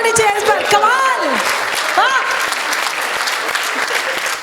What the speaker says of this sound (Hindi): भाई जोरदार तालियां होनी चाहिए इस पर